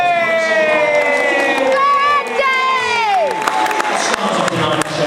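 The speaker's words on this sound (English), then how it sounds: "give them all a massive round of applause" An audience at a hypnotist stage show erupts loudly, with rising whoops and high cheering voices over a bed of crowd noise and clapping.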